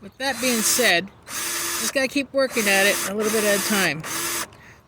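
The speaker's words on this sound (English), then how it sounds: "it's actually in there and it's drilling the hole" A power drill boring out a stripped screw in a GI Joe figure whines in repeated bursts, speeding up and slowing down while a person talks over it.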